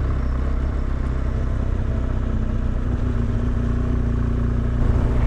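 Motorcycle ride along a scenic road in Spain near the Gorafe desert, with a steady, loud low engine drone and rumbling wind and road noise throughout, no voices.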